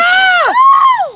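People whoop and scream at ground level during the 2017 total solar eclipse in Beatrice, Nebraska. A couple of loud, close voiced cries rise and fall in long sliding tones.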